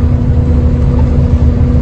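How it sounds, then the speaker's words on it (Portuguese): A Volkswagen Beetle's engine pulls under acceleration on a road trip, a loud, steady low drone with a constant hum and no talk over it. "Aí tá estamos acelerando aqui agora."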